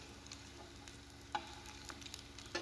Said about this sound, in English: I'm just pan frying them